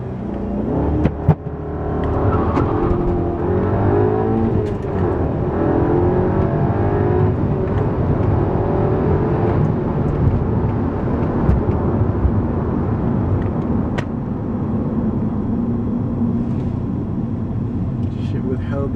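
A 2011 Audi A3 fitted with a K&N cold air intake drives along a back road, its engine a loud, continuous close-up drone that rises and falls with throttle throughout.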